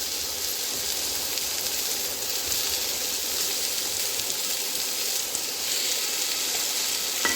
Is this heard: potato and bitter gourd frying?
yes